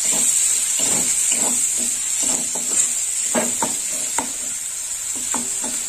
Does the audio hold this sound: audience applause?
no